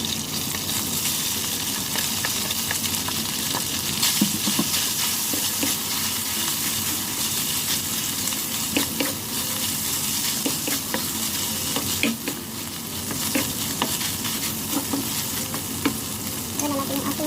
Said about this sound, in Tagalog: And guys, i-fry natin ang ating beef.